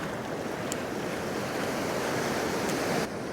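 Sea surf surges onto the beach at Beadnell during a shore fishing trip for cod, a loud, continuous wash of breaking waves mixed with wind buffeting the microphone, with no talking.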